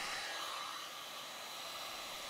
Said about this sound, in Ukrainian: Прогріємо феном.